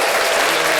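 Short burst of dense crowd applause, steady and loud for under a second with no talk over it.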